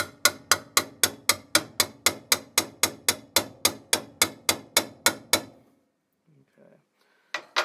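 A ball peen hammer taps a metal header tube for a Hemi-powered drag boat, about twenty sharp, evenly spaced ringing strikes up close, then a pause with faint handling noise and a couple of last taps.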